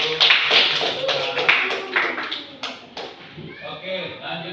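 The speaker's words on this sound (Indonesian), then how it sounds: "Kasih tepuk tangan dulu." Classroom audience applause after a group presentation: scattered, uneven hand claps from a small group, mixed with voices talking over them.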